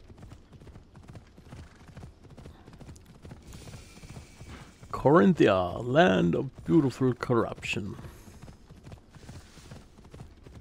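Horse hooves clip-clop steadily while riding in the game Assassin's Creed Odyssey, a rhythmic patter running under a narrator's voice speaking in the middle.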